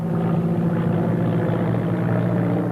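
Propeller airplane engine in flight, a loud, continuous droning hum with steady throbbing low tones and no break, close and dominant throughout.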